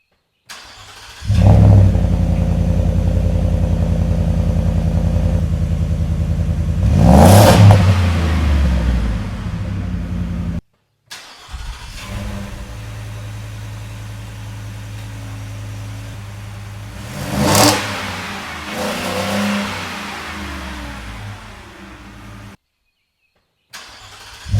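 A 2022 Ford F-150 with the 5.0 V8 and a Flowmaster Super HP2 muffler cranks and fires, settling into a deep, loud idle with two sharp revs, then restarts and idles again before a final rev and cutoff, with no talking.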